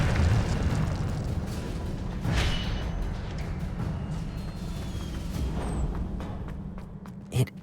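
The Incendio fire spell in Hogwarts Legacy, a video game, sounds as a series of fiery whooshing bursts, each flaring briefly over a low steady game background. The last burst comes as a sharp pop near the end.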